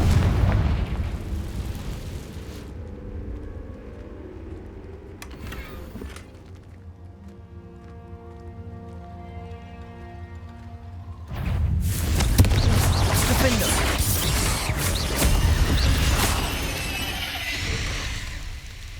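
Spell blasts from the Confringo fire charm in the game Hogwarts Legacy: a loud booming explosion, a quieter stretch with ringing tones, then a second long, roaring eruption of rumbling blasts.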